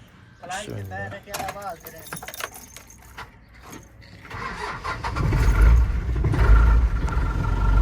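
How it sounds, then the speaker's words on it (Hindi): Keys jangle close by, then the diesel engine of a Toyota Coaster 35-seater minibus cranks and starts, settling into a loud, rumbling idle. A voice is heard at the start. "स्टार्ट करके भी आपको चेक करवाते हैं"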